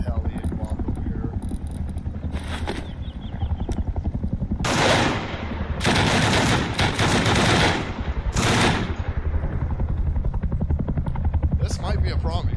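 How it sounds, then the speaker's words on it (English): A helicopter approaches in the video game Rust, with a loud, continuous rotor thump and engine roar under bursts of gunfire, while a person talks over it. "Sounds like we may have a heli coming in as well."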